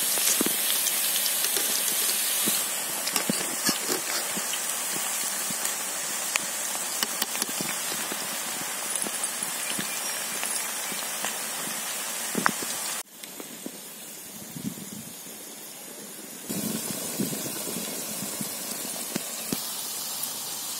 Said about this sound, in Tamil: பக்கோடா நல்லா வெந்துருச்சு, கலகலன்னு சத்தம் கேக்குது